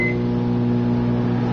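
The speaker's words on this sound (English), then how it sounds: "Microwave it for about a minute." A microwave oven heats a vegetarian sausage with a steady, loud electrical hum, a brief high beep at the very start, no voices.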